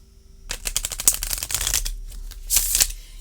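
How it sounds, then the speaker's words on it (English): A deck of tarot cards riffled close up, quick fluttering snaps in two bursts with a short pause between them. "I really feel like the shuffling has not been easy or adequate"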